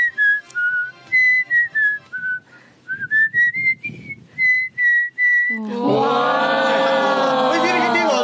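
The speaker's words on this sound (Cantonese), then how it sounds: "呢個口哨絕技喺邊度學翻嚟㗎？" A young woman whistles a clear, tuneful melody in short, pitch-steady phrases, close and loud, then an enthusiastic crowd breaks into cheering and applause.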